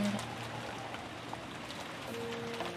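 Steady, soft rain hisses continuously in the background of a visual novel scene, an even wash of falling drops with faint tonal game sounds layered over it.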